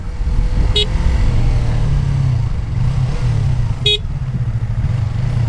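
A Yamaha R25 motorcycle engine revs and pulls hard through the gears in city traffic, a loud, close, continuous drone with two brief shifts between rising pulls.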